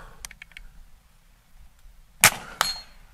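A Seneca Dragon Claw II .50 caliber airgun fires at a target on a range. A few faint clicks come first in a quiet setting, then a loud, sharp shot is followed by a second, smaller crack moments later.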